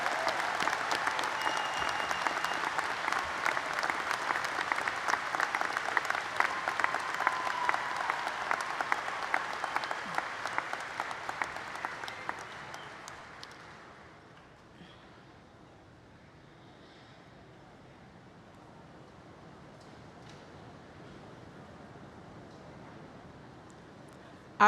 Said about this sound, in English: Would you join me in giving them a round of applause,